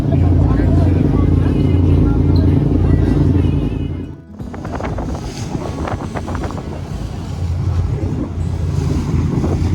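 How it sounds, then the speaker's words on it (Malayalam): A boat out at sea with loud wind buffeting the microphone and waves washing past, a continuous close rushing roar that briefly drops out and then returns with choppy splashing. "ബോട്ട് ഇതാണ്."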